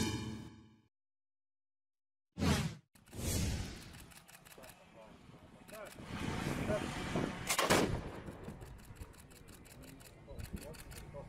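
A cannon booms to mark the start of Ramadan: two heavy, rumbling blasts a few seconds apart after a short silence, with a voice briefly heard before the first shot.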